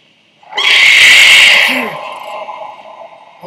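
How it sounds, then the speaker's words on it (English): A loud, sudden scream in the Until Dawn video game bursts in, holds strong for about a second, then fades into a lingering echo. "Did you hear that? Someone screamed."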